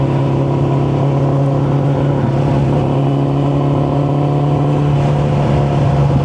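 A Suzuki Bandit motorcycle is ridden on a cool day, its engine running a little rough from sitting unused. The engine drones loud and steady throughout, with a strong low hum and layered harmonic tones.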